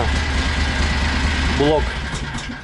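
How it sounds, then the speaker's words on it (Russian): A Borus Extreme vehicle engine idles with a steady low rumble and then winds down as it is shut off, while someone speaks briefly over the running motor close by. "Покажи, как глушится машина."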